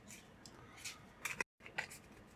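A deck of Gloomhaven: Jaws of the Lion game cards being shuffled by hand, giving quiet, scattered crisp flicks and clicks over a faint room background.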